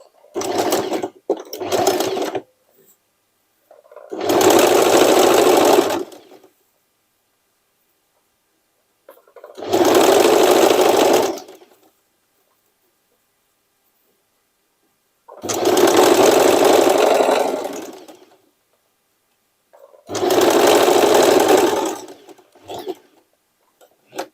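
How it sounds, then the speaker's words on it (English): A sewing machine stitches a large leather bag in four separate loud bursts of rapid, close mechanical whirring, each lasting about two seconds, with silent pauses between them and some short rustling handling noises at the start. "Just I will bend it twice and I will stitch it."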